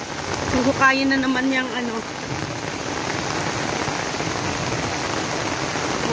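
Heavy rain pours steadily on a surface as a dense, loud hiss that runs unbroken, while a person speaks briefly near the start.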